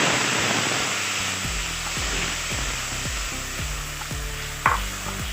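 A fresh paste of ginger, garlic, tomato and green chili sizzles in a hot pan for Amritsari chole. A loud, continuous hiss sits under repeated rhythmic scraping from stirring, with no talking.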